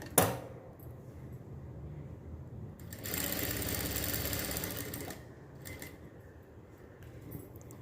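A sewing machine stitches the back neck of a blouse: a quick burst at the start, a sustained two-second run of rapid whirring stitches, then shorter intermittent bursts, close and clear.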